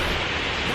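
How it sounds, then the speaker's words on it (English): Steady rain outside during a thunderstorm, heard as a dense, even hiss that fills the whole short moment with no voices. "If you hear like some really bad noise, it's raining outside."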